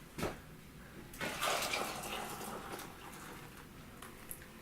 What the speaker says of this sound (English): let's put that soup back in the pot. So back in it goes.